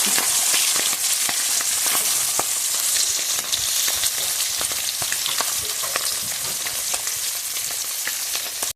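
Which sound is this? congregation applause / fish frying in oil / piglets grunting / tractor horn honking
fish frying in oil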